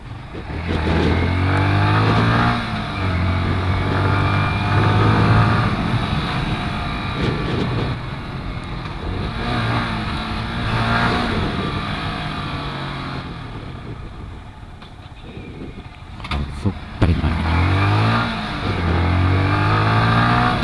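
Yamaha M-Slaz motorcycle ridden through neighborhood side streets: a steady engine drone with repeated revs and dips as gears shift, close and continuous, with wind noise.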